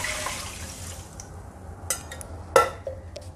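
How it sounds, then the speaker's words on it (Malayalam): Water is poured into horse gram in a pressure cooker, a splashing pour that fades into quieter trickles, followed by a few light metallic knocks and drips. "ഇനി ഇതിൽ കുറച്ച് വെള്ളവും കൂടി ചേർത്ത് കൊടുക്കാം."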